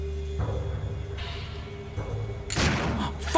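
Enemy gunfire in the zombie survival game Dead State: a loud, sharp burst of shots near the end, following a low rumbling game background.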